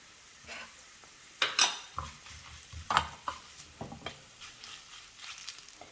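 Chili powder stirred into hot oil in a pan for a Kerala-style Manthal fish curry with raw mango, with scattered scrapes and clinks of a spoon against the pot and a faint crackle underneath.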